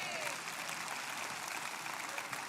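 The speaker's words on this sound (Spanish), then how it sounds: "den un aplauso al Señor en esta tarde" A church congregation applauds during a Spanish-language sermon, steady dense clapping filling the space evenly from start to finish, fairly distant and moderate in level, with no voice rising above it.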